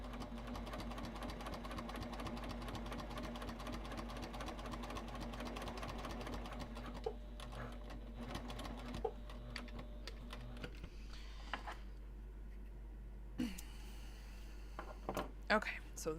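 A sewing machine stitching car trash cans inside a bus runs in rapid rhythmic bursts, then slows to intermittent stitches and clicks, close and fairly quiet.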